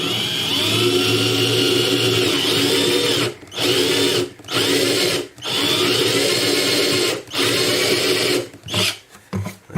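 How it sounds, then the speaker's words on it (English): A power drill with a 5mm bit boring out thick plastic on a Takamine acoustic guitar bridge, a loud steady whine that stops and restarts several times, ending in short bursts. "use the 5mm bit and just see if I can get rid of that plastic that's covering up those screws"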